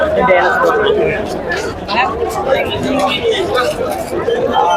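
Dense crowd chatter and murmuring voices at the ringan ground of the Sant Dnyaneshwar Mauli palkhi pilgrimage on the Alandi to Pandharpur wari, a steady close hubbub of many people talking at once.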